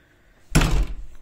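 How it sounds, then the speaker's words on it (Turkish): A room door is pushed shut on a windy day, giving one loud, close slam with a short rattling tail. "Şu odanın kapısını kapatayım"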